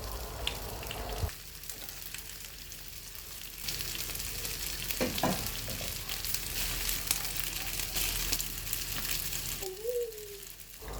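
Food frying in oil in a pan, pieces cooked to a light golden colour, giving a steady broadband sizzle throughout, with brief clatters of utensils and a short squeak near the end; no talking.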